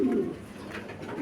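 A male pigeon coos close by, one short, low, throaty burst that fades quickly, with no talk over it.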